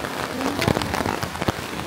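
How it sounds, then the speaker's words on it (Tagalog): Rain falling outdoors at a rural hillside village, a dense steady patter on surfaces with scattered louder drops, fairly close. "Inulan tayo guys."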